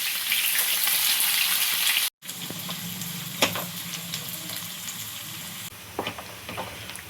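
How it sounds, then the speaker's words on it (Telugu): Onions sizzle and fry in hot cooking oil in a pan for a prawn biryani, a steady close crackling hiss broken by a brief gap and occasional stirring clicks, with no talking. "ఇప్పుడు మనం ఆనియన్స్ తీసుకొని ఫ్రై చేసుకుందాం"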